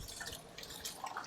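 Water from a stone fountain in Ollantaytambo, Peru, trickles and drips softly, a faint, close patter of small splashes with a light hiss of flowing water behind it.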